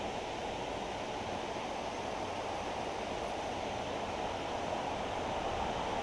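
Gooligan Creek, a small rainforest creek, flows with a steady, even wash of water, moderately loud and continuous with no voices.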